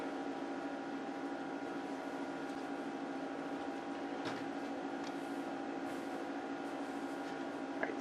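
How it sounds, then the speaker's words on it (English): An air conditioner runs steadily indoors on a hot day, giving a constant hum with a tonal whine that holds at an even level throughout. Only faint clicks and small rustles rise over it. "sorry about the noise in the background, but it's hot, so air conditioner's on."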